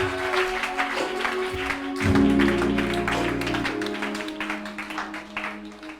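A church congregation acclaims and applauds during a Sunday service: dense clapping and cheering voices over sustained keyboard and music chords, loud and continuous, swelling briefly as the music shifts.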